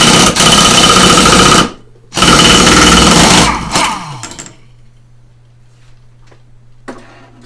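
Impact wrench rattling hard on the big top nut of a 42-inch mower deck pulley, two loud bursts split by a short pause, then the tool winds down to a low steady hum with faint clicks.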